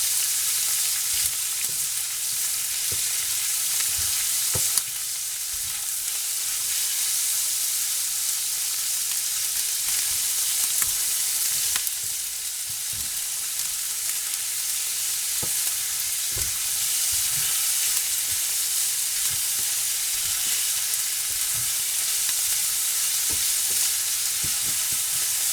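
Beef fries in a stir-fry pan with a dense, constant sizzle, while occasional clicks and taps from the utensil stand out against the steady hiss over a long stretch, with no voices.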